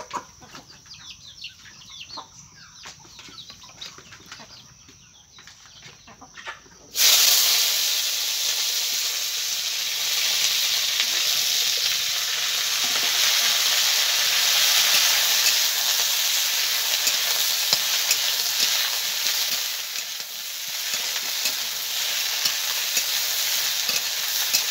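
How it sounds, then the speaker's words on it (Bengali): Cut okra pieces drop into hot mustard oil in a wok and burst into a loud, continuous sizzle that holds steady for many seconds, after quieter clinks and kitchen noise at the start. "এবার কেটে রাখা ভেন্ডিগুলোকে আমি ভেজে নেব। তার জন্য আমি কড়াই সরষের তেল দিয়ে দিচ্ছি।"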